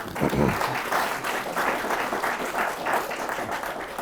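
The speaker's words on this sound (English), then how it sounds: "Round of applause" A panel audience at a housing discussion gives a round of clapping, moderately loud and dense, with some murmured voices mixed in beneath it.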